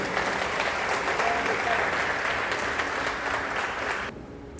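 A church congregation applauds during an evening worship service, a dense, steady wash of clapping that holds for about four seconds before cutting off abruptly, with faint voices mixed in.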